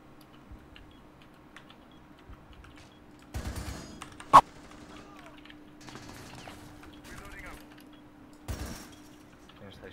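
Gunfire in the video game Rainbow Six Siege, a few sharp isolated shots and short bursts over quiet background hum, with a loud single crack in the middle and another burst near the end.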